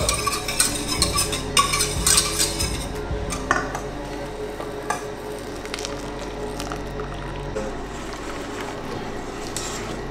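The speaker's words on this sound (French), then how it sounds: "on mélange pour obtenir cette ganache" A utensil stirs hot cream into chocolate in a bowl for ganache, giving close scraping and clinking against the bowl, busiest at the start and then settling into softer, steady mixing.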